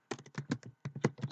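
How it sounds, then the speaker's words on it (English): Someone types a command on a computer keyboard at a CentOS 7 terminal, a quick burst of about a dozen close, fairly loud keystrokes in two short runs separated by a brief pause. "you simply type the following command"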